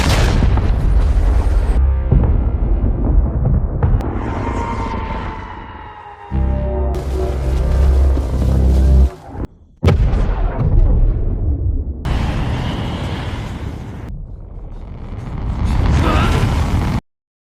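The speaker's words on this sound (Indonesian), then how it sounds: "Mereka semua pun harus berakhir dengan meledak." Bomb explosions in a war film about humans versus AI: a run of loud, heavy booms and blasts with rumbling tails and debris, filling the scene from start to finish with no talk.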